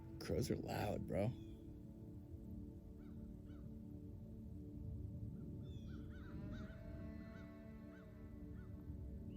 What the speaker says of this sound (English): These crows croaking, squawking.